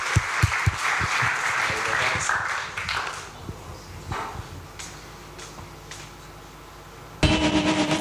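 Audience applause at an indie game pitch event in Helsinki, a broad wash of clapping across the room with a few sharper close claps early, easing off before a louder burst of noise near the end.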